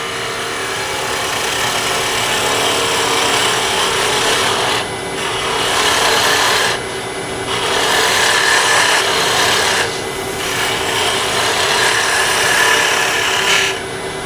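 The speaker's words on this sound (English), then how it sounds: "So now I'll continue that smoothing cut closer and closer towards the headstock." A wood lathe spinning a tool handle blank while a smoothing planing cut is worked toward the headstock, a loud continuous rasping scrape with steady motor hum, easing briefly in several short pauses.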